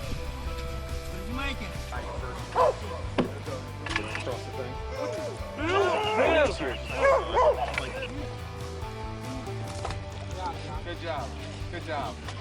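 A distressed dog barks and whimpers in short yelps amid a busy, noisy scene, with people talking throughout and a rain-like background wash.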